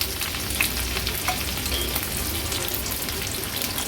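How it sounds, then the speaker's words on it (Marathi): Sliced onion and green chili frying in hot oil for an Agri-Koli style fish dish, a steady dense crackling sizzle with faint stirring, close and continuous throughout. "आता हा कांदा आणि मिरची आपण तेलावर घालूया।"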